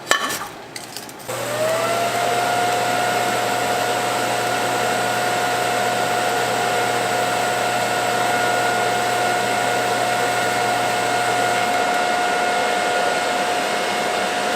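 TIG welding a butt joint on a turbo pipe: a steady, loud electrical hum with a constant high whine that starts after a few brief clicks and holds for about ten seconds before easing off.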